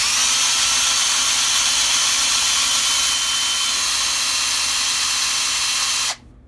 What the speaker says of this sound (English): I would get a drill for this if you don't have one, so it'll take a long time because these take forever to unscrew